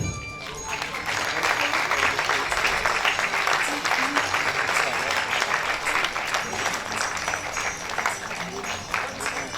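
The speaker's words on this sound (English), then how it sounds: "Keep the applaud going on." Dense, continuous audience applause at a national MSME convention as a guest joins the dais for a photo, steady clapping from a large hall with some background voices.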